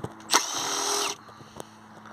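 A power tool whirs briefly while a T30 Torx retaining screw comes out of a VW Crafter or Mercedes Sprinter front brake disc. The burst is short and close, followed by faint clicks.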